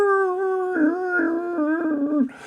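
A human voice imitating a dog howling, one long, sustained, wavering tone that rises and falls in pitch, loud and close with nothing else heard.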